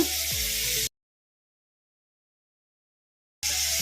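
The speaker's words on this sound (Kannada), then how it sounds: "ಈ ಚಿಕನಲ್ಲಿರೋ ನೀರೆಲ್ಲ ಹೋಗೋವರೆಗೂ ಫ್ರೈ ಮಾಡ್ಕೋಬೇಕು ಈ ಥರ ಕಲಿಸ್ಕೊತ ಹೈ ಫ್ಲೇಮಲ್ಲಿ ಒಂದು ಐದು ನಿಮಿಷ ಫ್ರೈ ಮಾಡ್ಕೊಂಬಿಡೋಣ" Chicken frying in oil on a high flame for handi chicken, giving a bright steady sizzle and hiss that cuts out into silence for a few seconds before the sizzling resumes, with no voices heard.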